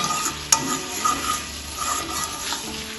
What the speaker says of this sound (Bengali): ভালোভাবে গরম মশলা গুঁড়োটা মিশিয়ে নেব।